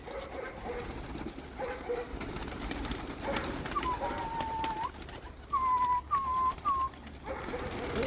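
Pigeons coo in a short series of soft, hooting calls over steady outdoor background noise, several spaced close together near the end.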